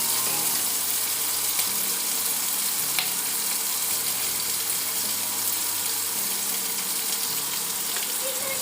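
Chopped capsicum and potato fry in a pan, giving a steady, close sizzle with a faint clink of stirring now and then.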